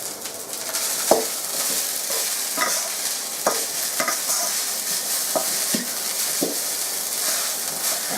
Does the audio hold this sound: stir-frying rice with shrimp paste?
yes